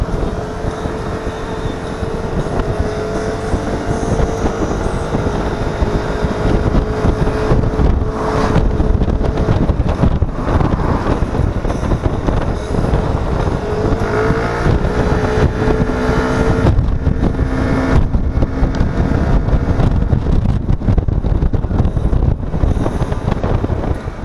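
Strong wind roars and buffets the microphone at an outdoor bike and car meet on Route 71 in Scotland, a loud, steady rush with faint vehicle engine hum underneath and no talking.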